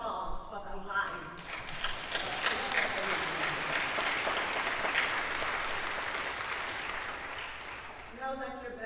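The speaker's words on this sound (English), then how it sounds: "let us all just give another round of applause for the life" Congregation applauding at a funeral service in a church, a sustained round of clapping that swells and holds, with a voice speaking briefly before and after.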